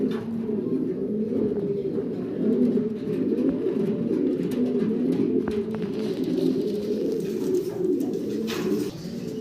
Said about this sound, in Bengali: সম্মানিত দর্শক আমরা সাদা একজোড়া রেন কবুতর দেখতেছি